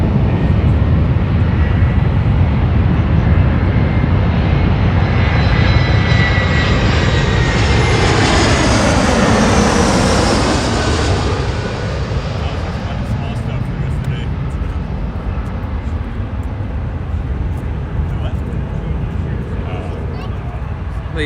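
An Airbus A321 jet lands after a flight from Atlanta at Los Angeles International Airport, a loud roaring engine rush that swells to a peak near the middle and then fades, with someone talking over it.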